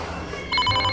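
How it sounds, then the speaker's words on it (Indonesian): A telephone rings in a Sundanese comedy film, a bright electronic ring rising over a noisy background in a room. "Telepon nih."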